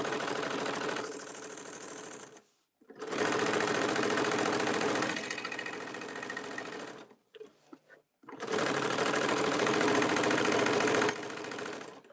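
A sewing machine stitches in three long, loud bursts, with short pauses and a few faint clicks between runs.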